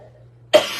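A single sharp cough bursts out close to the microphone after near silence, followed by a brief raspy tail.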